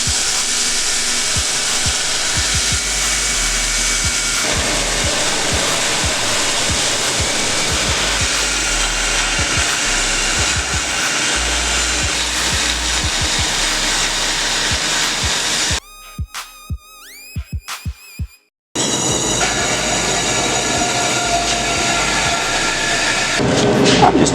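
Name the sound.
grinding out a forge weld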